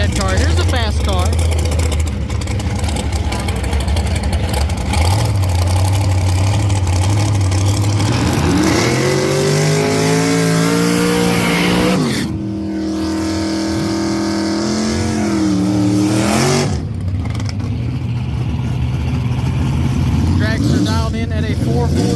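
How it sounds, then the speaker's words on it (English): A fast door car makes a drag racing pass at Kentucky Dragway, its loud engine droning and rising in pitch as it accelerates, then dropping away and rising again, with crowd noise and talk underneath. "Here's a fast car."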